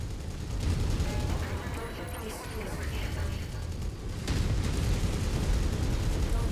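Distant explosions and gunfire in MechWarrior 5: Mercenaries rumble in bursts, with a low roar that swells louder in the second half.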